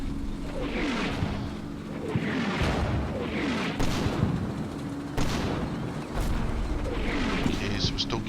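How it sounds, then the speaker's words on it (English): Artillery fire in a World War II tactical war game, a German meeting engagement against Russian forces, with repeated heavy booms and rumbling impacts every second or two under a steady low background, a few sharper cracks between. "we're still getting artillery fire coming into that field"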